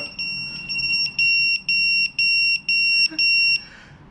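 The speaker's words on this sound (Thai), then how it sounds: "ไม่ได้ยินเสียงนี้นานมาก เสียงเพจเข้าครับ" A 1990s pager receiving a message emits a series of shrill, high-pitched electronic beeps in a rapid pulsing pattern, loud and close, over faint background noise.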